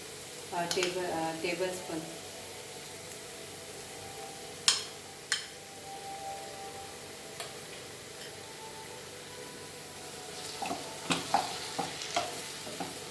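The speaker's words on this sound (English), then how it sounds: "Now I will be adding tomatoes." Tomatoes frying in a pan with fenugreek leaves and potatoes, a soft steady sizzle with stirring clinks and scrapes near the start and end, plus a few sharp utensil taps; faint talk in the background.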